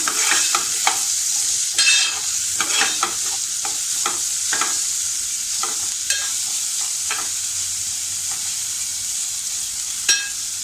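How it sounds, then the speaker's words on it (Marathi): Coriander leaves being stirred and sautéed in a pan for Mumbai-style vada pav potato filling, a steady oil sizzle with repeated scraping stirs throughout, close and fairly loud, no talking. "थोडी आपण कोथिंबीर टाकूया. ही सुद्धा छान अशी व्यवस्थित परतून घेऊया."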